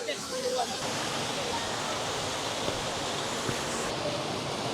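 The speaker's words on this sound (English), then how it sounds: "We're at waterfall number 3" A Welsh waterfall gives a loud, steady broadband roar of falling water, heard close by and constant throughout, with no talking.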